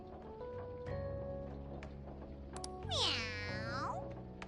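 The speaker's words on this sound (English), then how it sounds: "Meow." A cat meows once in a drawn-out, rising call near the middle, heard over a quiet background of electronic game music and sound effects, with no talking.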